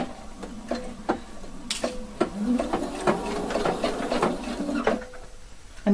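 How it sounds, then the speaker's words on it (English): Sewing machine stitching a mandarin collar, short bursts of rapid mechanical whirring and ticking that start and stop irregularly, close and moderately loud. "So I'm just sewing this part"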